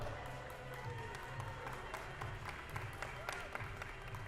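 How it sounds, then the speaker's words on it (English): Crowd applause after the men's and women's singles finals at a national championship, steady dense clapping with a few cheers, fairly loud and continuous throughout, with voices mixed in. "Give some applause."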